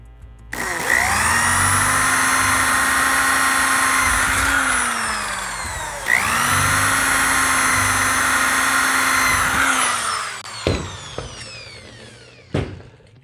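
A power drill with a 3.3 mm bit drilling rivet holes while a small door is built: two loud, sustained high whirring runs of about five seconds each, followed by a few sharp clicks and taps.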